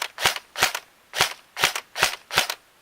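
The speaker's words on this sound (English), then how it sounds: "Magazine in, set to semi-auto, you can actually see it recoil as I fire it." A Magpul PTS ERG M4 airsoft rifle with electric recoil firing on semi-auto: six sharp, close snapping shots at a steady, slightly uneven pace, each clearly separated, with no talking.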